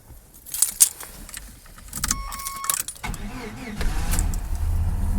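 Keys jangle, then a 1989 GMC S15 pickup cranks and its engine catches, settling into a steady close idle rumble.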